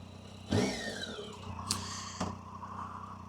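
Harley-Davidson motorcycle pulling away on a ride near Floyd, Virginia in the Blue Ridge Mountains: a sudden engine burst, then a rising rev that settles into a steady mid-pitched drone, heard close with a couple of sharp clicks.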